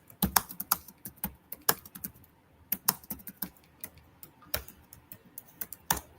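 Fast, irregular clacking of keys as someone types on a computer keyboard, crisp and close, with short pauses between bursts and no talk.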